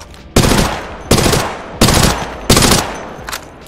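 The Prowler burst-fire gun shooting in Apex Legends: four loud, sharp bursts spaced about evenly, each a rapid cluster of close shots, followed by a quieter short burst.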